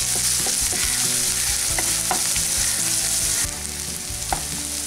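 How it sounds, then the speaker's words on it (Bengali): Chopped onion, garlic, ginger and green chili fry in hot oil, a steady dense sizzle with occasional stirring scrapes and pops, close and loud throughout with no voices. "তেল গরম হয়ে গেছে। তেলের মধ্যে প্রথমে দিয়ে দিচ্ছি কুচানো পেঁয়াজ।"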